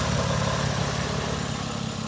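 A Pontiac G6 convertible's 3900 V6 idles steadily after about three years in storage, a close, continuous low rumble that stays even and unbroken throughout.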